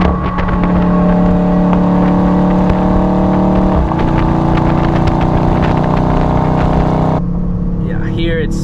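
Dodge Charger Scat Pack Widebody engine pulling steadily with a strong low drone and rising harmonic tones, then a clear shift change near the end, heard from inside the cabin.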